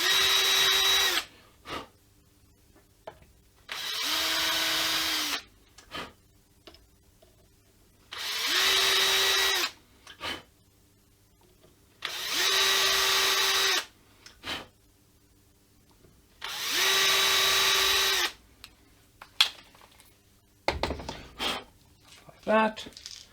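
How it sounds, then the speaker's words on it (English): A drill pre-drills a hole in a handmade guitar headstock in repeated bursts, five or six whirring runs of a few seconds each with short pauses between, close and fairly loud, with a few quieter knocks near the end. "And we can pre-drill a hole."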